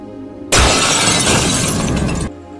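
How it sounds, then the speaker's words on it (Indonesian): A glass door pane smashed in a film scene: one loud, sudden crash that bursts into a dense shower of shattering, tinkling glass for nearly two seconds before cutting off. "Laura yang sebel bercampur kehel dengan penuh emosi memecahkan kaca"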